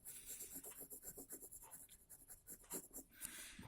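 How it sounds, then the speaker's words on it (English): Graphite pencil scratching across paper while shading in a cartoon Pikachu, a steady close run of short rubbing and scribbling strokes with no talk. "just create two curves and just fill in the color, or just with pencil for now"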